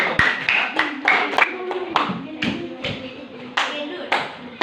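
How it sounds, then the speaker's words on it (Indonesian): Classmates clap for a friend in a classroom: a small group of separate, uneven hand claps, sharp and close, scattered across several seconds while voices talk between them. "tepuk tangan temannya"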